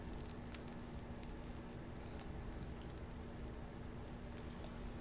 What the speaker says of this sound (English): And pour us some batter.